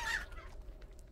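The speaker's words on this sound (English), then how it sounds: "Oh, that's a chicken." Chicken clucking in the video game Texas Chain Saw: a short burst of clucks at the start, then fading into quiet background noise, with no talking.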